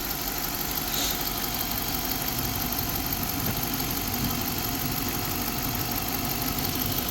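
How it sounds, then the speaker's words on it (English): A 2011 car engine idles steadily at an auto auction, a continuous mid-pitched hum that stays even and fairly close for the whole stretch, with no voices over it. "Engine sounds pretty healthy."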